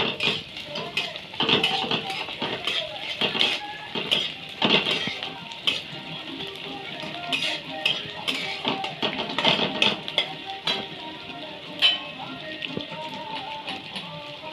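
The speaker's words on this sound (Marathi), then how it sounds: "आता ह्याच्यामध्ये भाजून घेतलेलं शेंगदाणे टाकल्यात, ती पण हलवायचं." A spatula scrapes and clinks against a pan while roasted peanuts and onion are stirred over a gas flame for puran, repeated close metallic taps and rattles under speech.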